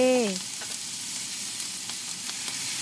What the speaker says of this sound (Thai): ผัดไปเรื่อยๆ ให้ส่วนผสมและเครื่องปรุงเข้ากัน